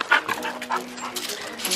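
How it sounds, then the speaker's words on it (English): Dogs at the beach yip, whimper and give short barks, a close, busy run of high-pitched calls with some whining tones. "Silly dogs."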